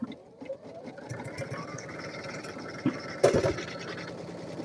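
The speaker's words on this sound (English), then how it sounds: "So just satin stitching." A sewing machine satin stitches quietly in the background, giving a low, continuous hum with small clicks and one louder handling bump.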